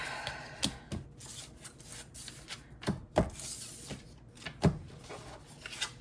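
A deck of tarot-style reading cards is shuffled by hand at close range, with soft papery riffles and sliding rubs broken by several sharp card snaps, quiet and with no talking.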